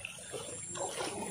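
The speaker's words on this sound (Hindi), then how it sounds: "नदी से खेतों में पानी आ रहा है।" River water runs into farm fields after rain, a faint, steady flowing trickle and gurgle outdoors with no talk over it.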